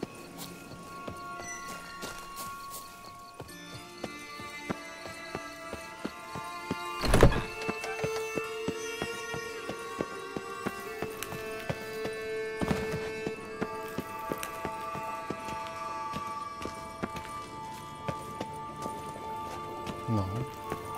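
Roach, Geralt's horse in The Witcher 3: Wild Hunt, gallops with steady clip-clop hoofbeats and an occasional whinny, mixed under game music and sharp thuds; the hooves stay fairly quiet behind the score.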